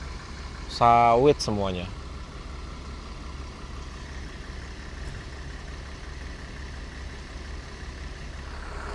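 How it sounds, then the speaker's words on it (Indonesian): A Golden Dragon intercity bus runs on a long road trip from Pekanbaru to Solo, its engine giving a steady low, rumbling drone throughout, with someone speaking briefly near the start. "Nih teman-teman dengerin deh suara mesinnya nih. Jarang-jarang loh dengar suara mesin Golden Dragon."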